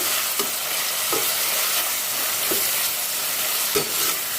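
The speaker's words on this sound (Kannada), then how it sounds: "ಎರಡನ್ನೂ ಇವಾಗ ಚೆನ್ನಾಗಿ ಫ್ರೈ ಮಾಡ್ಕೊಳ್ಳೋಣ ಜಸ್ಟ್ ಒಂದರಿಂದ ಎರಡು ನಿಮಿಷ ಚೆನ್ನಾಗಿ ಫ್ರೈ ಮಾಡ್ಕೋಬೇಕಾಗತ್ತೆ" Cubed vegetables and green peas fry in hot oil for a spiced wedding-style khara bath, giving a steady close sizzle with a few soft stirring scrapes at intervals.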